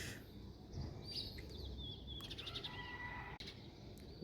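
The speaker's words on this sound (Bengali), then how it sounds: "একটা পাখির ডাক শুনতেছি," A bird calls from a mango tree where it is nesting, in a rooftop garden in Dhaka, with a few short chirping phrases that sound close by against steady city background noise and no talking.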